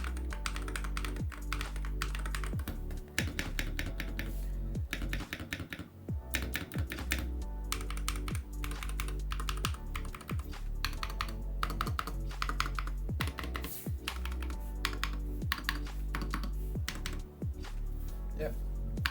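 Rapid, steady typing on an Ajazz AK680 MAX HE hall-effect mechanical keyboard, crisp close-up keystrokes in a continuous busy rhythm with no pauses, while a person talks over it.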